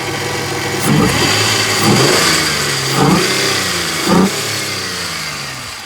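A Vauxhall Vectra GSi engine idles steadily close by, then revs up in four short bursts about a second apart, each falling back to idle.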